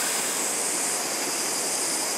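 A mountain river in Nepal rushes steadily past a picnic spot, a dense, continuous broadband roar of flowing water heard close and alone with no talking.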